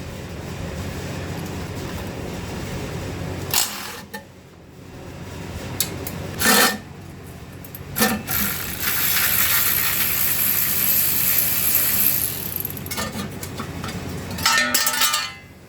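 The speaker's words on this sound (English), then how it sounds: "Just got to use a 10mm, get this guard off for the torque converter" A 10mm wrench ratchets and scrapes as it removes the bolts of a torque converter guard under a seized engine. Gritty rubbing and rasping comes in several close bursts with brief metallic clinks between them, and nobody speaks.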